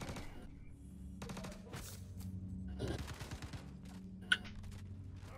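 Gunfire in a Star Citizen boarding fight, heard as quiet clusters of rapid shots separated by short pauses over a low, steady hum.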